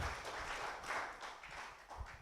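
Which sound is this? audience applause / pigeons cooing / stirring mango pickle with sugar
audience applause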